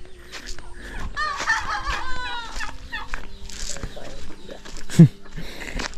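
Native chickens and turkeys penned together on a farm cluck and gobble in a busy, overlapping flock chorus, with one sharp loud call near the end and a person talking intermittently over them.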